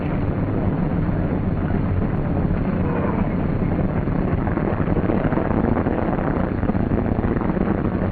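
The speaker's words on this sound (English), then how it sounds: "As engine begins to fire, retard throttle and return mixture control to auto rich." A light training aircraft's piston engine runs steadily after start, a dense, loud, unbroken roar with a low throbbing rumble and no voices.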